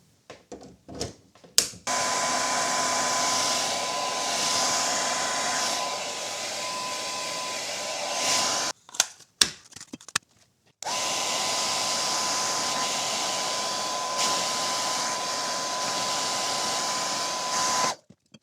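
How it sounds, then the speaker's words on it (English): A hair dryer heating shrink caps on wine bottles blows steadily at close range, switched off briefly with some handling clicks, then switched back on for a second long run. "the easiest way to do that, if you're not in a sort of really professional setup, is just with a hairdryer"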